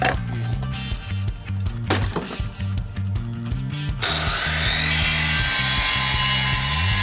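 A power saw cuts wooden floorboards for a swarm trap, giving a steady, loud buzzing whine with rhythmic pulses, rising into a sustained harsher cutting roar midway through.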